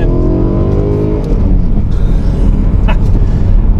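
BMW E92 M3 engine revving toward its high rev limit, a loud rising harmonic engine note heard close up with steady intensity throughout.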